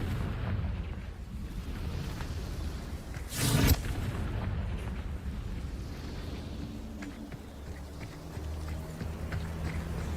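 Explosion from a Confringo spell in a wizarding video game: one short, sharp blast bursting out of a quiet rumbling background, then fading back into low ambience.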